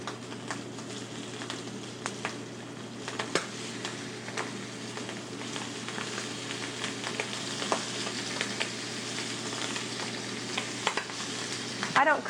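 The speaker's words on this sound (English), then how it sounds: "It's essential that you get a nice sear on your livers." Chicken livers sear in a hot pan with a steady, close sizzle and crackle, with occasional sharp pops and light clinks, under a low constant hum and no talking.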